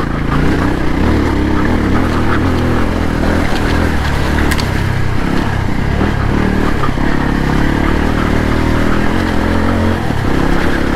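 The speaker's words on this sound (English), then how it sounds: "Up to third gear now, a bit on the throttle." Voge 300 Rally motorcycle engine revving loud and close as it pulls up through the gears, ending up in third on a gentle road and trail, with wind rush and some rattling clatter.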